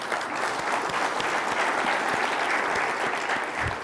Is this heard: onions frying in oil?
no